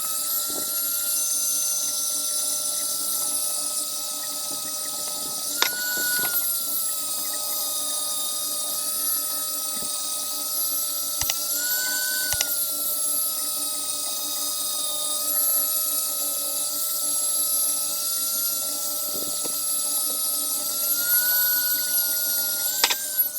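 A polishing machine whines steadily as it grinds down the rough outer edges of an agate, a constant high-pitched whir with occasional brief knocks and no talking.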